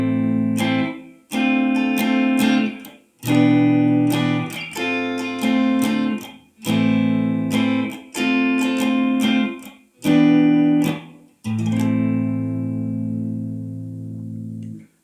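A Robert Cray Stratocaster electric guitar on its middle pickup alone gives a clean, trebly tone: a string of strummed chords in short bursts with brief gaps, closing on one long ringing chord that fades.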